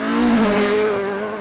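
A rally car with a 2.5-litre engine races past on a special stage, its engine note loud and sustained as it sweeps by close with a steady, rising-then-falling roar and no voices.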